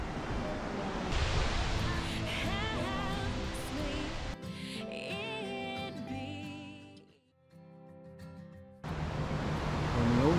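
Multnomah Falls in the Columbia Gorge roars as a steady, broadband rush of falling water, loud and continuous, briefly dipping before surging back, with voices speaking over it in places.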